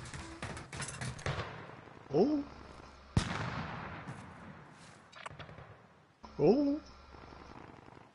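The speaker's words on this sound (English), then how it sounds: "I hear gunshot like really close" Gunshots in a video game, a few sharp cracks and bursts spaced apart, some close and some further off, with short surprised vocal exclamations between them.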